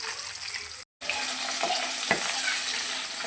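Fish frying in a pan with a continuous crackling sizzle, broken by a short silent gap, then a few light clinks as the sizzle resumes and continues steadily.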